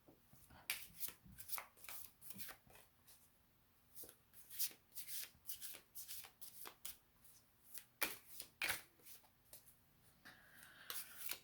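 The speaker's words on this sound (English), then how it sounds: "I think we're going to draw some tarot cards." Tarot cards are shuffled close by in soft, repeated riffles and flicks, an uneven rhythm of brief papery bursts with no talking.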